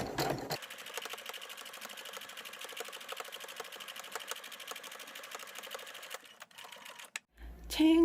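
A sewing machine stitches the brim of a sun hat with a fast, even, close needle rattle that runs continuously for about six seconds, then stops with a few clicks.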